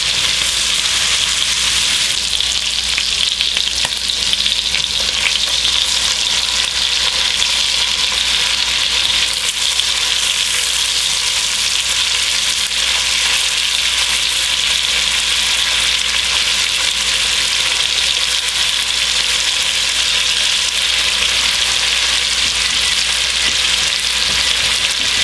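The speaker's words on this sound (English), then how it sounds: "we're winding down the browning of the meat" Beef pieces browning in a frying pan make a loud, dense, continuous sizzle, close up and unbroken, with no talking over it.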